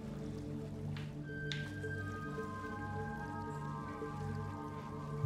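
Water dripping in a dark, spooky area of the video game Tunic, soft squishy drops over a quiet, droning ambient tone with sustained musical notes.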